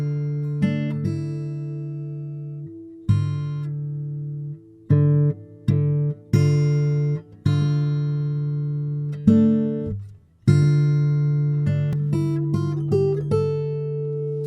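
A clean guitar melody played through as a flowing phrase of sustained, ringing notes with occasional short breaks, steady and fairly loud without any talking.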